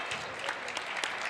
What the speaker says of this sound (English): Round of applause here in McBain.